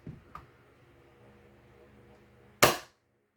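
Nerf Hammershot blaster fitted with an intermediate upgrade kit firing a dart, one sharp, loud pop near the end after a few faint mechanical clicks, with no talking.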